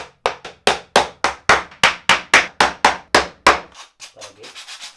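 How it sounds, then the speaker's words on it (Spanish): A hammer drives a small nail into wood with about fifteen sharp, evenly spaced taps, close and loud, followed by a few softer knocks at the end. "Radita clavó un clavito."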